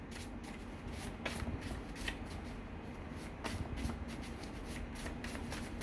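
Poetry cards being drawn and shuffled from a deck, a steady soft papery riffle with a few brighter card snaps, close and quiet, no talking.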